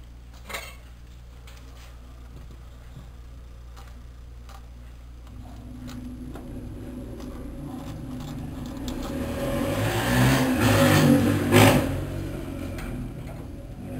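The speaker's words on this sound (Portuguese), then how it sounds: "Desculpe o barulho, é uma moto passando na rua." A motorcycle engine rumbles past on the street outside, growing louder to a peak near the end and then easing, with faint clinks of kitchen utensils nearby.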